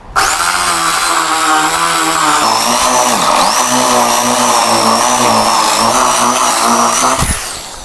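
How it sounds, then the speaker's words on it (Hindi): A power drill bores a hole through plywood in a continuous, loud, close whine lasting several seconds, then winds down at the end. "बार ड्रिल मशीन से इसमें होल कर लेना है।"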